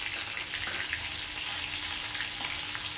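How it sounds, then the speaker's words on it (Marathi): Garlic, cumin seeds and green chili frying in oil over low heat in a pan, a constant bright sizzle with faint crackles, steady and close throughout. "आता लसूण घालू, जिरं घालू त्यातच. बारीक गॅस ठेवा आणि हिरवी मिरची त्यात ॲड करू,"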